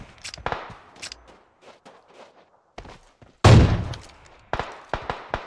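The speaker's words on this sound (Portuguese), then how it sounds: "Ai, tem mais tiro aqui, Fuso." Gunfire in the mobile battle-royale game PUBG Mobile on the Miramar desert map: scattered sharp shot cracks, then one loud, heavy burst midway, followed by a few more crisp reports.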